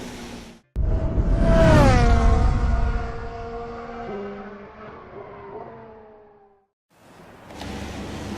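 F1 race cars from the F1 2016 video game roar on the starting grid, one engine revving loud and high then falling in pitch as it fades away, followed by a short quiet gap and renewed engine noise.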